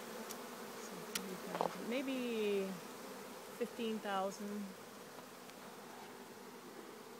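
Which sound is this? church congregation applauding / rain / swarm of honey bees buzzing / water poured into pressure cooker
swarm of honey bees buzzing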